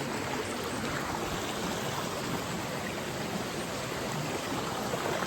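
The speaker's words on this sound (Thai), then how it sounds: "นอนอยู่ท่ามกลางน้ำตก ที่ ผ่อนคลายมีเสียงน้ำเสียงนกนะเสียงลมผ่านนะทุกคน" A waterfall and flowing water at Chiang Ri make a steady, even rushing hiss that fills the whole scene without pause or voices.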